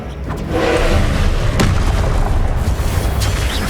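Repulsor spell cast in Hogwarts Legacy, a loud booming blast with a deep rumbling body and sharp bursts on top, sustained and close.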